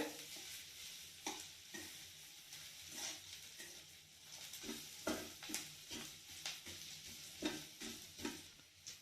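A baby corn mixture stirred in a pan after Kashmiri red chilli powder goes in: repeated soft scraping strokes over a gentle background sizzle, quiet and close, with no voices.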